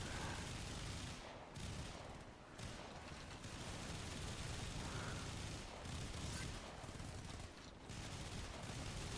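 Dense, continuous automatic gunfire roars as a player shoots a boss in Warframe, loud and sustained with only brief dips, with no voice audible over it.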